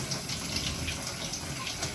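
Water from a shower runs steadily in a continuous broadband hiss and splash, close and moderately loud, with no voices over it.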